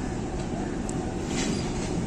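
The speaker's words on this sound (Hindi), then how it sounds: "GU20 लोकोमोटिव के साथ 13 अवाम एक्सप्रेस लाला मूसा जंक्शन पर पहुंच रही है" A Pakistan Railways Awam Express pulled by a GEU20 diesel locomotive arriving at Lala Musa Junction, a continuous loud rumble of engine and rolling stock close by.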